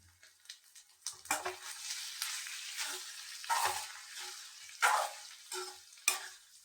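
An egg and masala mixture sizzles in a hot pan as a utensil stirs and scrapes it, producing a series of quiet, close scraping strokes over a soft frying hiss, with no talking.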